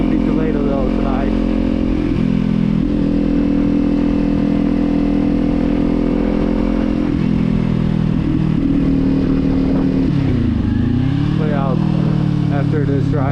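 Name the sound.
Kawasaki Z400 motorcycle exhaust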